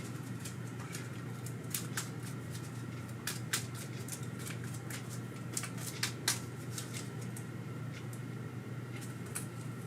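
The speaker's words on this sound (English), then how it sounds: "Let's reshuffle again. I just need one good shuffle." A deck of cards is shuffled during a tabletop board game, with a string of quick, crisp riffling and snapping bursts close by over a low steady background hum.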